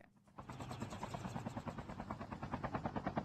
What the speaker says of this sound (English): Back in the helicopter we go, a decent way to rotate